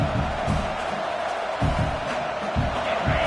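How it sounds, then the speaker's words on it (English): Stadium crowd at a college football game between USC and LSU, a steady, broad roar of cheering voices with small swells, filling the whole stretch. "this crowd trying to help keep them there"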